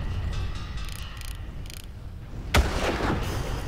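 A single sharp sniper rifle shot in the Far Cry video game, loud and sudden, with mechanical clicking of the game before it and a rumbling echo after.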